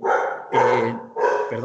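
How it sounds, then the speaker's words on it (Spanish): A small dog at home barks in three loud, close bursts, its yaps separated by brief gaps, with a voice speaking briefly. "los ladridos, tengo un perrito aquí en mi casa"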